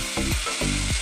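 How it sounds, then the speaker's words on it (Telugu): Onions frying with a little salt in a pan for Bengal-style potato mutton, a steady close sizzle broken by three rhythmic scraping strokes in about a second. "ఇప్పుడు ఉల్లిపాయలు వేసి, ఉల్లిపాయలు కొంచెం బాగా వేగాలి."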